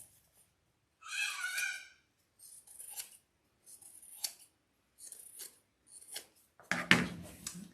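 Scissors trimming excess fabric along the edge of a foam top hat form for a sewn leprechaun wreath attachment, in several separate bursts of close snipping and rasping cuts, with a louder rustling handling sound at the end.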